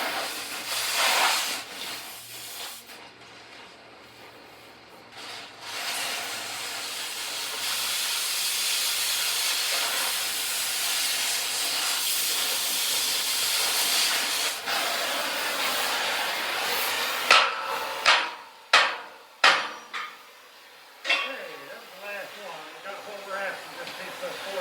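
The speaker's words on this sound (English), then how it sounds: "Looks like we missed one little weld. Let me get that real quick" A short weld, about three quarters of an inch long, is run on a steel piece, giving a steady broadband hiss and crackle for around fifteen seconds. Several sharp knocks follow after it stops.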